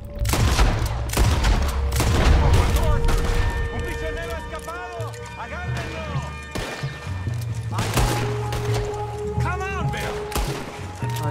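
Dense gunfire rings out during a bank robbery shootout in Saint Denis in Red Dead Redemption, with rapid overlapping shots and impacts amid loud game action while people talk over the fighting.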